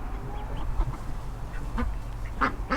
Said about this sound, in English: Blue, let me see if I can get him to quack